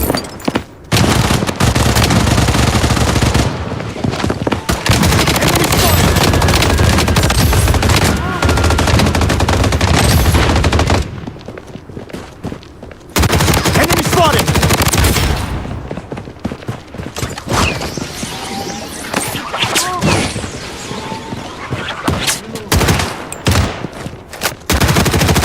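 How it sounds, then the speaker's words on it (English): A defensive turret machine gun firing in the shooter game Blood Strike, long loud sustained bursts with a short lull partway, then more ragged rapid fire and thuds, with faint game voices in the mix. "Defensive turret activated."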